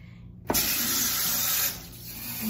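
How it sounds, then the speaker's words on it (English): Water runs from a sink tap while a beauty blender sponge is rinsed, a steady close hiss and splash that starts abruptly and then eases off partway through. "you rinse it with the water,"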